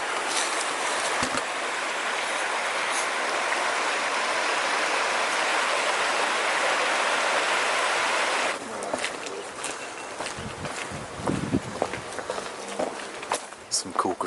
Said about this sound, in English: The river run through underground, turning all the water wheels and stuff.